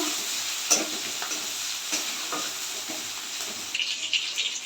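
Onion frying in a pan with panch phoron, the start of a pui shak curry with fish head: a soft, steady sizzle close by with a few faint stirring clicks and no talking.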